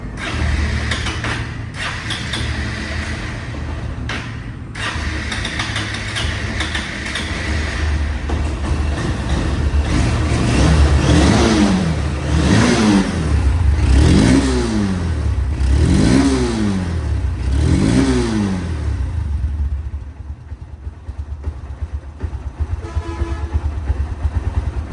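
A second-hand Honda Hornet motorcycle with double disc brakes idling close by, then revved repeatedly in several rising and falling bursts before dropping back to a steady idle.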